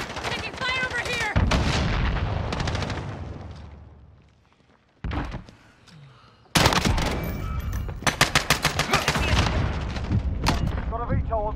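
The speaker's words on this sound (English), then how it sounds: "Taking fire over here." Loud automatic gunfire and heavy booming blasts fill a shooter video game battle, with rattling bursts broken by a brief lull and then rapid repeated shots resuming, while voices talk over the action.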